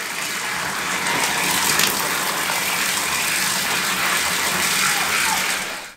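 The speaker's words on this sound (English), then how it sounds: "I'll use it to rinse off the, you know, the rest of this backpack and stuff, and to clean this tub" Shower water gushes into a bathtub while a backpack is rinsed off: a loud, steady, close hiss of running and splashing water that continues throughout with no talk.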